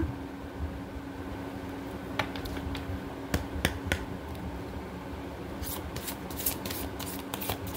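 A tarot deck being shuffled, soft papery riffles and sharp card snaps coming in scattered bursts over a quiet background hum, growing busier toward the end, with no talk.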